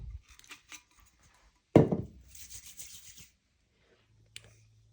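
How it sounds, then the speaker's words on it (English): A drinkware tumbler is sanded near its top rim ahead of a textured metallic base coat, giving a sharp scrape followed by about a second of brisk, hissy rubbing, then quiet with a faint tap. "so that you can sand without messing up the color of your vinyl"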